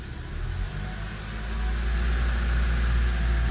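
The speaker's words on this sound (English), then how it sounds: "let it shift through the gears." A Honda Civic engine running as its automatic transmission shifts through the gears, a steady low hum that swells and holds louder partway through, with no talk.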